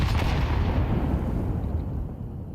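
Stacked grenades going off in a Counter-Strike match, a loud rumbling blast with a booming low tail that fades over a couple of seconds, with no talk.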